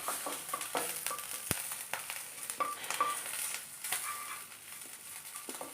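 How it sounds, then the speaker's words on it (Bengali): Spices being sautéed with ginger paste in a pan for shukto, producing a soft continuous sizzle broken by frequent light clicks and scrapes of stirring. "দাঁড়াও আদা বাটা দিয়ে এই একটু মশলাটা কষে নেব।"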